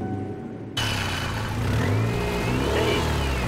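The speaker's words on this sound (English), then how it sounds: "just rev it up maybe" After a brief quiet moment a car engine kicks in and is revved, rising and swelling in pitch, loud and close.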